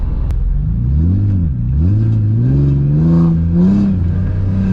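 Nissan S14 240SX engine revs up and down through its throttle body, loud and close, with rising and falling pitch sweeps over a steady rumble, no voices.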